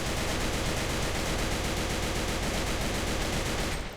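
An AK-12 rifle is tapped in single shots at the fastest possible rate while crouching in a video game, a loud, dense run of gunfire that blurs into a steady roar for about four seconds before cutting off, no voices.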